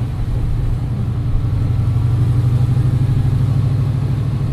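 Terminator Saleen sports car engine held in third gear while cruising around Casey Key, Florida, a steady loud low drone throughout with no break.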